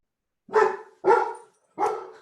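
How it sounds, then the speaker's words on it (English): A dog barks three times, sharp and fairly close, with short pauses between each bark and quiet otherwise. "whoa, that's my dog"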